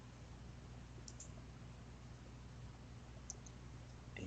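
A computer mouse gives two faint, isolated clicks a couple of seconds apart against a quiet hiss in a still room.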